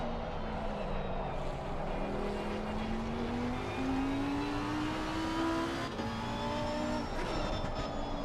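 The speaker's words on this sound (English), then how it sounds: "That's a fantastic sounding car, that wailing V10." Lamborghini V10 engine in Assetto Corsa Competizione racing at the Hungaroring, a loud, continuous high-pitched wail that climbs steadily through the gears, with a brief dip near the end before it picks up again.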